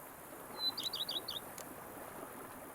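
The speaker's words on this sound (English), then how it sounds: "Bees buzzing, birds chirping." Birds chirp in The Witcher 3: Blood and Wine, a quick run of about five bright, high tweets in the middle of a quiet, softly hissing outdoor ambience.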